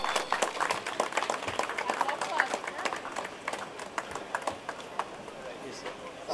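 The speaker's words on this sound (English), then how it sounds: "Give a big round of applause." Audience clapping at a film production house launch event, a steady patter of many hands sustained throughout, with a voice speaking over it.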